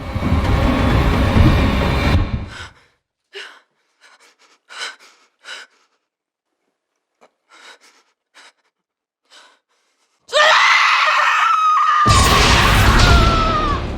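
Bix, a woman held in an interrogation scene from Star Wars Andor, screams and gasps in short broken bursts between stretches of near silence, framed by loud dense noise at the start and end.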